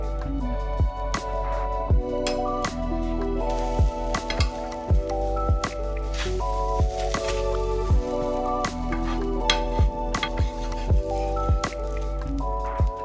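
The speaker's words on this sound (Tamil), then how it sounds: "ஃப்ளேம் வந்து லைட்டாக வச்சுக்கிட்டு கொஞ்சம் நேரம் க்ளோஸ் பண்ணி வச்சுட்டோன்னா நல்லா பேன் கேக் மாதிரி வந்துடும்." Dosa-like pancake batter cooking on a pan over a low flame, a soft continuous sizzle with frequent small pops and drips, heard close under steady background music.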